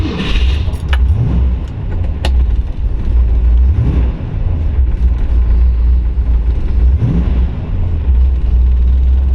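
A 1969 Ford Mustang 428 Super Cobra Jet Drag Pack idles in neutral and is revved three times, each rev a short rising surge over a deep rumble, with keys jangling loudly near the start.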